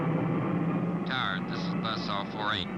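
A B-52 Stratofortress bomber taxiing on its way to the runway produces a steady, heavy engine drone throughout, with a crackly radio voice talking over it.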